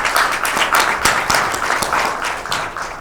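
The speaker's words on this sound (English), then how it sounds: "Give them all a round of applause for an excellent job." A crowd applauding, loud and steady, many hands clapping together for a few seconds.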